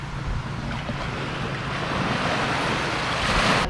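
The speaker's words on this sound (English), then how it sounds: "we're right on the beach" Ocean surf washes onto a beach in Bayawan City, Negros Oriental, Philippines, a steady, close roar of breaking water blended with gusty wind noise and no voices.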